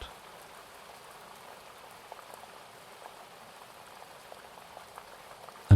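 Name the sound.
gentle bubbling of boiling water in a teapot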